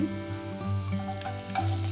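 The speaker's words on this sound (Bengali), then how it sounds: "এই যে আদা রসুনটা ভাজা হচ্ছে" Steady, soft sizzling of ginger-garlic paste frying in hot oil, a continuous crackle with faint stirring.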